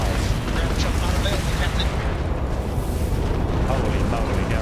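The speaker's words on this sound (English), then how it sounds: "Fire the missiles!" Ship missiles fire and explode in a Starfield space battle, a sustained loud rumbling barrage of booms and blasts under excited talking.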